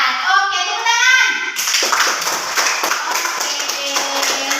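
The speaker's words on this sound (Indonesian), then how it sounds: "Oke, tepuk tangan." Schoolchildren in a classroom clap their hands in a quick rhythmic burst following a teacher's brief speech, the patter continuing steadily with faint voices beneath.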